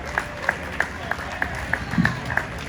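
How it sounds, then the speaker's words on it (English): Sparse audience clapping at an outdoor climate and health session during the Springfield Jazz & Roots Festival, with distinct claps in a loose rhythm and background crowd noise. "If you could give him a round of applause."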